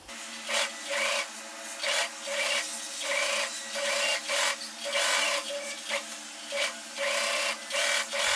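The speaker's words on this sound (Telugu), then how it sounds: "ఇక్కడ నేను స్లీవ్ దగ్గర ఇంకో డబుల్ స్టిచ్ అనేది వేసేస్తున్నాను" A sewing machine runs a double stitch along a blouse sleeve in repeated bursts of fast mechanical whirring, with brief pauses between runs. The sound is close, steady and alone.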